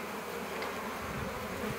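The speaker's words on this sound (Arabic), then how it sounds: "ياتي كذلك دبور اخر، ياتي كذلك دبور اخر" A hornet buzzes in flight near its nest. The whine is steady and continuous, fairly faint and close, with no voices.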